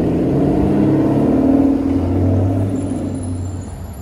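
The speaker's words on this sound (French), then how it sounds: "Je vais juste vous filmer le départ de la Vanquish S parce que ça fait vraiment une sonorité de dingue." An Aston Martin Vanquish S pulls away on a Paris street, its engine giving a deep, steady roar that swells and then slowly fades as the car moves off, loud and close with no voices over it.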